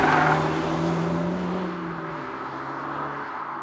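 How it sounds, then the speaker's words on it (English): Tyre roar fills the cabin of a Honda Civic Type R FL5, coming from the rear wheel wells as a steady broadband rumble with a low engine drone. It is fairly loud, fades slightly toward the end, and no one speaks. "tyre noise coming out of the rear wheel wells"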